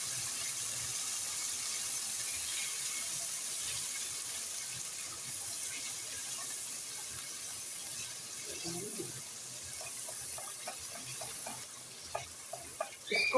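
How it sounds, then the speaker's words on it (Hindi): Chicken karahi with green chilies frying in a wok, giving a steady, moderately loud sizzle throughout, with a few clinks and stirring scrapes toward the end. "इसको अच्छी तरह भून लेना है।"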